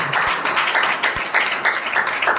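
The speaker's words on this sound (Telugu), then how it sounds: "కొట్టండి, గట్టిగా చప్పట్లు" A church congregation claps loudly together at a pastor's urging, a dense, continuous burst of applause with a few sharper single claps standing out.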